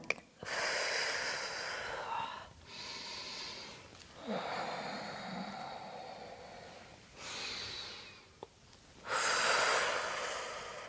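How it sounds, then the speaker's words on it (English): Slow, deep breaths are taken during gentle hatha yoga stretches, close and clear. Long airy inhales and exhales alternate in a steady rhythm of about five breaths over eleven seconds, with no talking. "Really breathing deeply"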